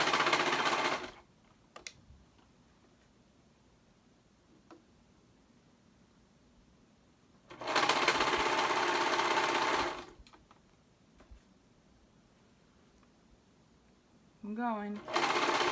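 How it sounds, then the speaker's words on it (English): A serger stitching the seams of a hoodie hood runs loud and steady in two bursts, each about two to three seconds long, separated by quiet handling. A brief voice comes in at the end. "making sure I remove the pins so my serger doesn't try to eat them"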